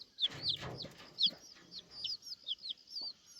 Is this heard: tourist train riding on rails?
no